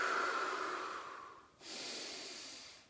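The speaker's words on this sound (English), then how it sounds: "Deep breaths." Slow, deep nasal breathing during a gentle morning spine movement exercise: a long inhale followed by a steady exhale, close and fairly soft.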